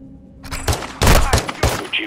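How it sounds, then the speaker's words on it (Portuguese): Gunfire in Call of Duty MW2, played on PS5: a few loud, sharp shots in quick succession after a moment of near silence, each with a booming tail. "O tiro chamou a atenção deles."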